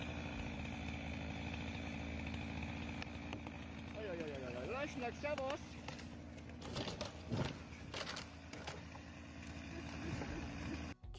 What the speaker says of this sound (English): he's just going to move the saw on the backside